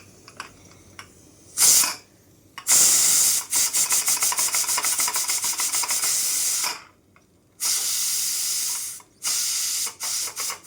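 Loud bursts of steam hissing from a pressure cooker, with one long rapid pulsing stretch, broken by short silences, then more sharp hisses.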